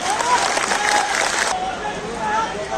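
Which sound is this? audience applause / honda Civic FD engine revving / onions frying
audience applause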